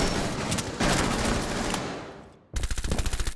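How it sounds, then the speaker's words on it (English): Rapid automatic gunfire in a competitive esports playoff match: a dense, sustained burst fades briefly, then a loud, sharp volley of closely spaced repeated shots. "A hail of gunfire."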